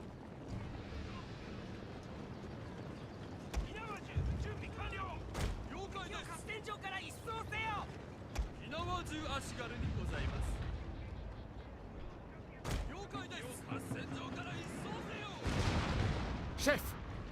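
Early-game cannons firing in the Total War: Shogun 2 strategy game, heard as several dull booms and bursts of battle noise amid the game's battlefield din, partly under someone talking.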